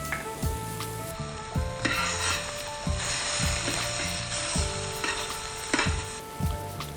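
A pepper mill grinds black pepper over shrimp heating in a sauce with lemon slices. Repeated ratcheting grinding strokes come in an uneven rhythm over a constant close sizzle.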